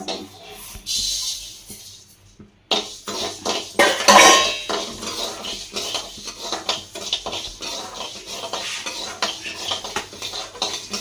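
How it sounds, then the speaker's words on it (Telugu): Rice roasting dry in a pan at home, its grains popping like popcorn: a close, dense scatter of clinks, crackles and scrapes, with a short silence before a louder stretch of rapid popping and stirring. "చూడండి పాప్కార్న్ లాగా ఎంత బాగా విడుస్తుంది వేడికి"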